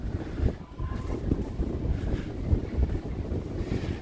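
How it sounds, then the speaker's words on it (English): Strong wind buffets the microphone at the Yokohama waterfront at night, a steady low rumbling roar with gusty swells throughout and no clear voices. "Ooh, the wind here is extreme."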